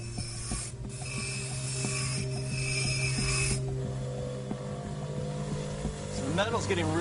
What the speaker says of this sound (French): Le métal chauffe énormément sur la meule